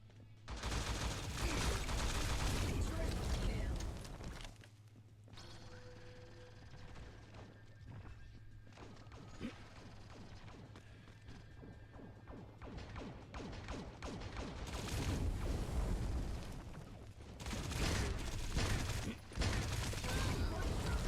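Rapid gunfire and ability blasts from the T3 Arena shooter game, in dense, continuous bursts over layered combat effects, with a brief lull midway before the shooting resumes loudly.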